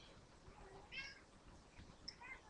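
House cat meowing faintly indoors, a short mew followed by a couple of quieter high mews against a low, noisy background.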